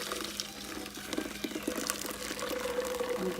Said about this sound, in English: So what I do is I just pour it in like that.